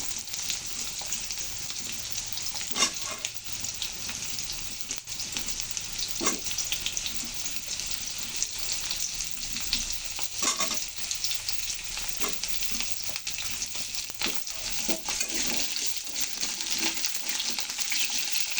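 Kohlrabi and taro pieces fry in a pan with cauliflower, producing a long, steady sizzle with occasional stirring scrapes and soft clatter, close and moderately loud with no voices.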